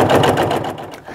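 A sewing machine stitches down the side of a tote bag with a 1/8 inch seam, its rapid needle rattle running steadily and close for a moment, with no talking.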